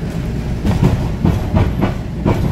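Rhythmic clickety-clack of a Strasburg Rail Road train rolling along rails, steady low rumble with repeated wheel beats at close range, heard aboard.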